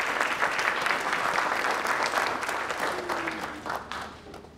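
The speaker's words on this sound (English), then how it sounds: "Let's give her a great round of applause" A graduation ceremony crowd claps steadily in a dense, moderately loud burst that gradually tapers toward the close, with faint voices briefly audible beneath.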